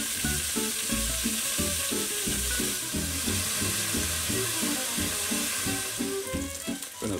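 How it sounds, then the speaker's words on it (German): Meat sears in very hot clarified butter in a pot, giving a loud, close, unbroken sizzle with rhythmic popping throughout and no speech. "werde dann das Butterfett dazugeben, das richtig schön heiß werden lassen und dann kommt das Fleisch rein."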